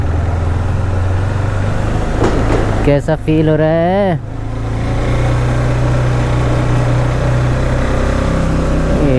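A motorcycle engine runs steadily with a low continuous rumble on a Sunday ride, loud and close, while someone talks over it for a few seconds.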